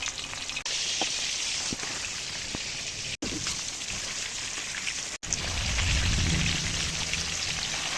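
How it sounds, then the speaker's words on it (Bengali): Pieces of katla fish fry in mustard oil: a loud, continuous crackling sizzle holds steady throughout, with brief cut-outs and a slight swell of lower bubbling near the end. "কাতলা মাছ এখন আমি ভেজে ভেজে নিচ্ছি"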